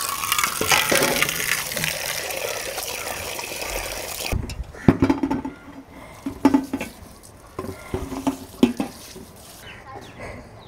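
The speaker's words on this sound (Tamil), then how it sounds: "கறியை போய் அலசிட்டு வந்துடுறேன்" Running tap water splashes steadily over chicken meat being rinsed, a broad continuous wash for the first four seconds, then fading to intermittent handling sounds, drips and knocks.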